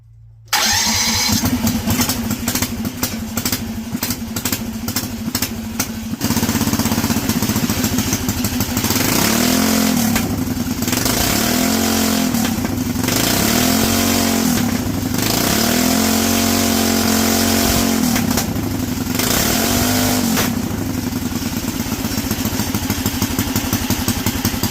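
A go-kart engine fitted with an NR Racing 3-circuit carburetor, 24mm bored, is cold started: rapid clattering pull attempts, then a catch into a loud, close idle with repeated rising and falling revs.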